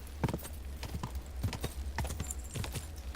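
Hooves of a ridden horse clip-clop steadily in a quick, even rhythm, close and fairly quiet over a low background hum.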